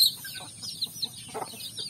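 Soft, scattered clucks from a chicken, a few short calls spread across a quiet, faintly hissing background.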